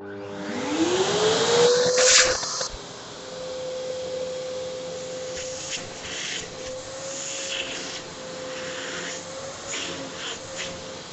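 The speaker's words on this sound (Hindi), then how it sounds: "चलिए जल्दी से वैक्यूम क्लीनर को ऑन करते हैं और इस टेस्ट को स्टार्ट करते हैं" An American Micronic vacuum cleaner switches on and revs up to a steady whine, with a sharp rattling burst as it sucks up pebbles, then runs on with scattered clicks and rattles of debris.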